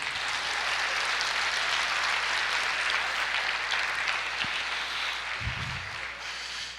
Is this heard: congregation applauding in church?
yes